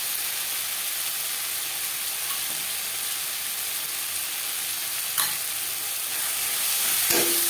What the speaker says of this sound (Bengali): পেঁয়াজ টমেটোর সাথে মশলা বেশ ভালো করে মিক্স করে দেবো।